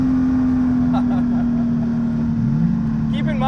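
Turbocharged 420 hp 1982 Porsche 911 accelerating hard in third gear on Mulholland Drive, heard as a steady loud engine drone with a rising tone, under a voice.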